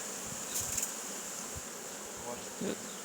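A steady, close hum of buzzing honey bees being fed before settling into nucleus hives continues throughout, with a few brief louder swells as insects pass nearby.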